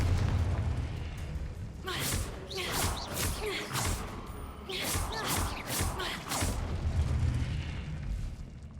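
Repeated booming blasts of the Confringo fire spell in a Hogwarts video game, several explosive bursts with whooshing tails spread across a steady background of game combat.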